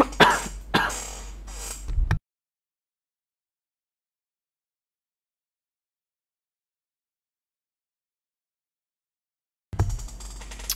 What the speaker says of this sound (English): just having a coughing fit here